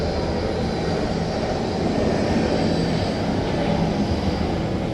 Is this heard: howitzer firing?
no